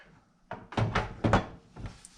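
A door tried in place during a project build makes several hollow, close thunks and knocks, one after another over about two seconds, with no talking.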